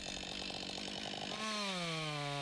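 Chainsaw cutting the horizontal second notch cut into a standing tree during manual felling, a steady loud engine drone that shifts to a higher, strained whine as the bar bites into the wood, with no talking.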